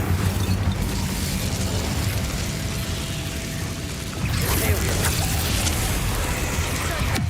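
An Incendio fire spell cast in Hogwarts Legacy, a loud whooshing burst of flame that flares up partway through over a dense, rumbling background of game noise, with faint voices.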